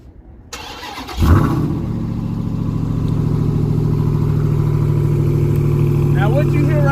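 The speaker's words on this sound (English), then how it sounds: "what you hear right there is American Pushrod V8 supercharged 700 horsepower motor right there" A supercharged 700 hp pushrod V8 in a Ram TRX pickup does a cold start. After a short crank it catches with a loud, sharp flare, then settles into a deep, steady, rumbling idle that holds close by.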